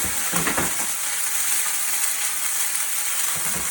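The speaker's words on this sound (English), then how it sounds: "this white wine is going to deglaze and pull all that flavor up from the bottom of the pan" White wine and veggie stock poured into a hot pan on an induction cooktop to deglaze it, giving a bright, steady sizzling hiss with a short burst of bubbling near the start.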